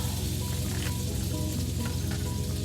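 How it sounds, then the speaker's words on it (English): A steak sizzles loudly and steadily as it sits seasoning side down in melted butter in a hot pan inside a truck, a dense continuous crackle with no pauses. "Set her seasoning side down right on the butter."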